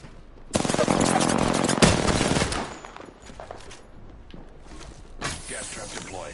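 Rapid video game gunfire bursts out loud at the start and continues as a dense volley, easing into scattered shots and background battle noise, with voices speaking over parts of it.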